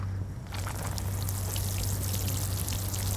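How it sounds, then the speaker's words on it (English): Water pours steadily onto flowers in a Roblox horror game, a continuous loud splashing stream that starts abruptly and runs unbroken, with no voices over it. "I need to pour water in."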